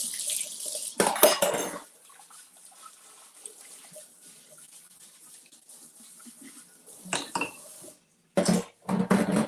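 Dishes rinsed under a running kitchen tap while making chocolate protein waffles, with bursts of splashing water and clinking at the start and again near the end, quiet moments between.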